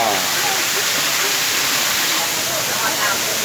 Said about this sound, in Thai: น้ำตก ลงมาจากหน้าผาที่น้ำตกถ้ำโสดา